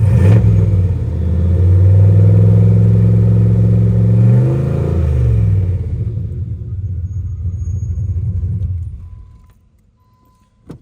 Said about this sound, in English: You kind of hear that turbo spooling.